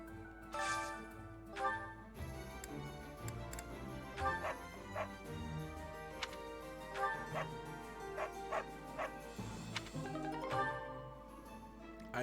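Dog barking inside the video game Fire Emblem: Three Houses: a few yips and bow-wows recur through the clip over game music, with brief whimpers between.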